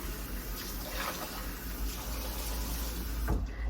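A wig is rinsed of shampoo foam under running tap water, a dense, steady gush and splatter heard close and alone for the whole stretch.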